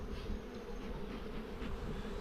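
Honeybees at an open hive under a clear crown board during a shook swarm, making a steady, dense buzz that stays close and continuous throughout with no voices.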